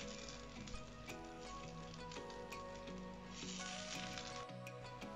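Rava uttapam batter sizzles steadily on an oiled non-stick pan, a continuous close crackle with faint tonal music underneath.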